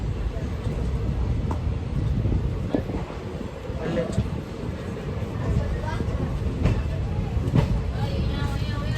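A passenger train rolling into Rajkot Junction railway station, heard from on board as a steady low rumble with periodic clunks from the wheels, while someone talks over it.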